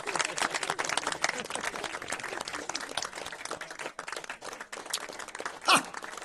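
A wedding audience breaks into applause, a dense, steady patter of many hands clapping close by, with one brief sharp spike near the end.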